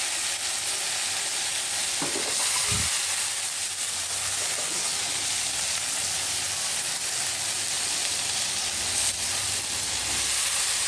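Bitter gourd and pointed gourd frying together in a pan, a dense, continuous hissing sizzle heard up close, with a brief knock of a utensil early on.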